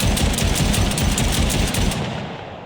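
Rapid automatic gunfire in a VR shooter game, a dense, sustained burst of shots that runs for about two seconds, then stops and leaves a fading tail.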